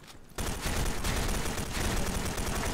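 Shotgun blasts from the online shooter S.K.I.L.L. Special Force 2 erupt after a brief quiet start, a loud, dense barrage of overlapping gunfire sustained to the end.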